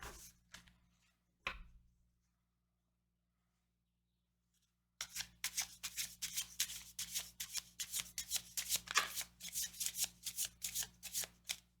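Tarot cards are shuffled close by: a few isolated riffles, a stretch of silence, then a long run of rapid, rhythmic card-shuffling bursts.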